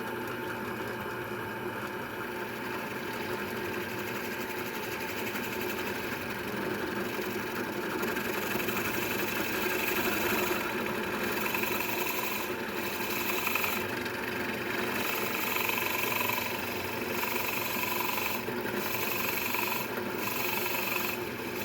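A drill boring a hole in a slingshot wave attachment, a steady mid-pitched motor whir with a rough vibrating buzz that holds for about twenty seconds, close and continuous with no talking.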